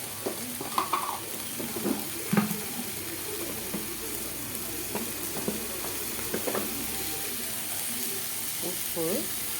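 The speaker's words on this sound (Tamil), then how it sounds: "வெங்காயம் போட்டு நல்லா வதங்கணும் பொன்னிறமாக. தக்காளி போட்டு நல்லா பொன்னிறமாக வதக்கணும்." Onion and tomato being sautéed in a pan for ragi semiya: a low, steady sizzle with scattered stirring clinks and scrapes, heard moderately close, while faint talk runs in the background.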